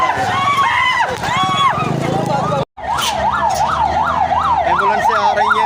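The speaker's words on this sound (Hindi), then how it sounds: "एम्बुलेंसें आ रही हैं, खतरे की निशानी है।" An ambulance siren wails up and down, cut by a brief gap, then a fast warbling siren cycles repeatedly, loud and close with traffic noise beneath, during clashes between police and pilgrims at Sehwan Dargah.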